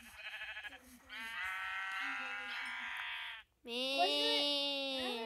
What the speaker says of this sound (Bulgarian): Ето там има и тук има две овце.